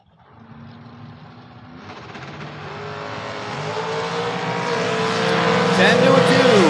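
Dragster race cars at a drag strip, engines building from a low rumble into a loud, rising roar that swells steadily as they accelerate, with no talk over it.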